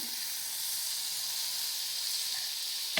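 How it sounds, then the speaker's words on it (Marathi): Oil and butter are heating in a hot kadhai before garlic, ginger and green chilli go in for wheat-flour noodles: a steady, close hiss of sizzling fat, even throughout, with a small clatter at the very end. "आता कढई तपलेली आहे त्यात आपण थोडंसं तेल आणि थोडंसं बटर टाकूया"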